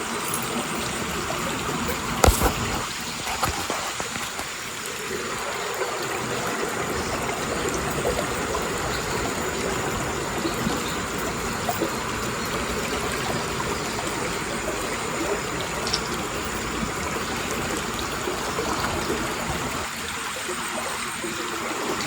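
Steady rushing and gurgling of a flowing stream in the evening, continuous and fairly close, with a few brief knocks near the start and no talking.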